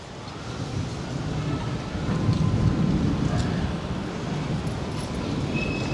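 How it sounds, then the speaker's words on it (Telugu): Thunder rolls in low, heavy rumbles through an unseasonal rainstorm, with rain pattering steadily on surfaces underneath, swelling midway and holding loud throughout. "మొహం బాగా ఉరుముతుందండి."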